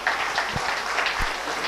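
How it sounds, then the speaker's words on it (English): Parents applauding at a school annual function, a brief dense patter of clapping filling the hall at a steady moderate level. "We request our parents to keep on applauding."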